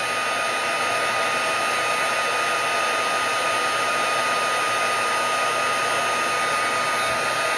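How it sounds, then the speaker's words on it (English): A heat gun blows hot air over watercolor paper flowers, making a loud, steady, unbroken whirring hiss that runs the whole time with no talk. "now I'm going to dry these with my heat gun"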